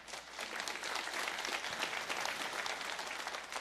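An audience at a speech during the Red Pill Expo claps steadily, a dense, fairly distant wash of applause with no talking over it, holding at an even level for a few seconds.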